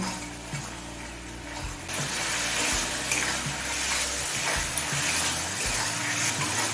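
Spice paste is stirred while it fries on high flame for a gati kochu and fish curry, making a dense bubbling sizzle with scraping stirs close by. A steady low hum runs underneath throughout.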